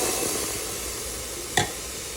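Chicken divan sauce of milk, wine and broth simmering in a pan, a steady soft sizzle with a single sharp clink of a spoon being stirred through it partway through.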